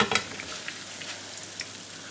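Doughnuts fry in hot fat or oil in a pan, a soft, steady sizzle with faint crackles and a brief clatter at the start, quiet and close, with no talking.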